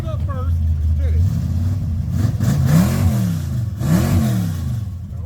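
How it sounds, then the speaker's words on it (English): At a church car show, an engine is revved repeatedly, its pitch rising and falling in several loud swells, with people talking nearby over the engine noise. "So rev it up first, then close it."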